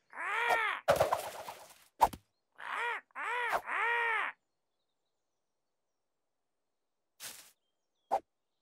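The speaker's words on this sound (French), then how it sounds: "Oiseau" A crow caws loudly several times in a row, harsh and nearby, followed by a long quiet stretch and a couple of fainter, distant calls.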